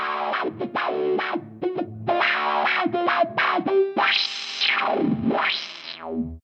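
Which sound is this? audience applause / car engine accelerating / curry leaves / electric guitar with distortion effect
electric guitar with distortion effect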